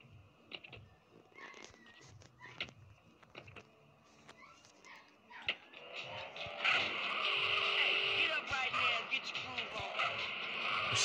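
Car engine revving and roaring in the game GTA San Andreas, building from scattered clicks and short bursts into a steady loud drone in the second half as the car speeds along.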